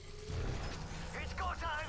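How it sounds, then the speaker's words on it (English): A shield cell charging in the video game Apex Legends, heard as a steady mechanical whirring hum with rising electronic tones, under a voice speaking. "Charging on my shields"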